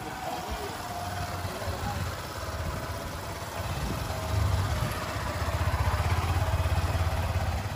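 A motorcycle engine on a riding exam course, idling then revving and building steadily, with a continuous mid-pitched drone that grows louder toward the end, close to the listener.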